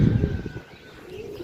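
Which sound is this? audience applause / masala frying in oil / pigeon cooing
pigeon cooing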